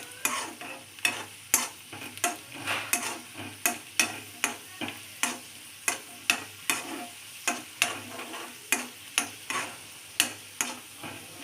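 Noodles frying in a pan for payasam, with a steady close sizzle punctuated by a regular run of sharp stirring taps against the pan, roughly two per second, throughout.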